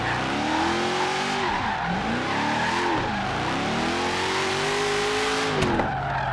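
Shelby GT500 drifting in the Forza Horizon 3 racing game, a constant loud engine roar with pitch swooping up and down as revs change, under continuous tire squeal across several seconds.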